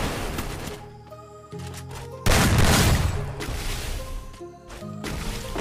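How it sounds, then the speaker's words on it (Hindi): Gunshots in the battle royale video game Free Fire ring out in rapid bursts over game music, with one loud blast standing out amid repeated firing and tonal in-game effects. "एक छोटा सा ड्रैगन शॉट"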